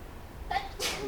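A single sneeze bursts out near the end, sharp and close, following a softer intake of breath in a quiet classroom setting.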